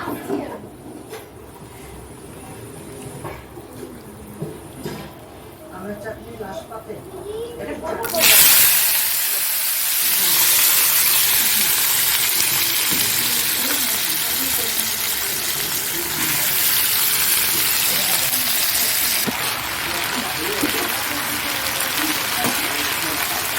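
Potatoes dropped into a hot pan with green chillies burst into a loud, sustained hiss partway through, following quieter kitchen sounds and speech, then keep sizzling steadily to the end.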